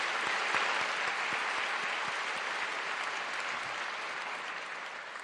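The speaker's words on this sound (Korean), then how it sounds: "우리 하나님께 한 해를 지켜주시는 것을 우리 감사와 영광의 박수 올려드리겠습니다." A church congregation gives a thick, sustained round of applause, many hands clapping densely together at steady volume that eases slightly toward the end, with no speech over it.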